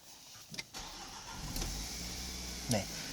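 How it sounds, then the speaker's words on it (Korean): A Renault SM6 car engine starting, a quick starter crank catching into a steady idle close by, with a person talking briefly over it. "시동 한번 걸어볼게요."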